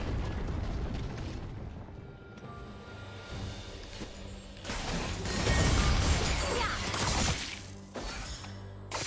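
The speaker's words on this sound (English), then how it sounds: "Red team's turret has been destroyed." A turret being destroyed in League of Legends: crumbling, shattering debris and a heavy booming collapse that swell loudly mid-way, over a busy layer of game effects and mechanical clatter.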